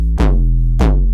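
Two punchy Moog 808-style bass hits with the envelope pushed hard into the filter, each opening with a bright, sweeping zap that quickly closes into a booming low tail, kick-like and close.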